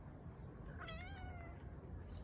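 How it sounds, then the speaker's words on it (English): A single short cat meow, faint and somewhat distant, rising and falling over a quiet background hiss, with no speech. "say meow"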